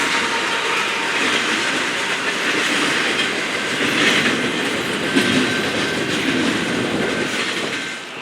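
A freight train rolls steadily past, close by, with an Evo locomotive working as a distributed power unit: a loud, sustained rumble with wheel clatter and faint squeal, no talking.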